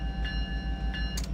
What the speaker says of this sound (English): Give her a few love taps on the horn